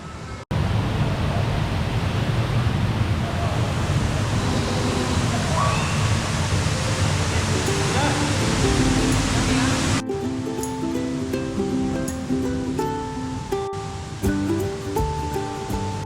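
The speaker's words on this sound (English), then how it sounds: "as you walk along the waterfall, you like get sprayed." Dense, steady roar of an indoor waterfall in a Singapore cloud forest fills the space close up, with people's voices audible under the rushing water.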